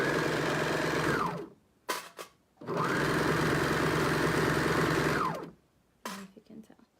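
A sewing machine stitches stretched fabric in two long, steady bursts of loud, close whirring, each ending with the motor winding down, separated by short pauses with faint handling noise.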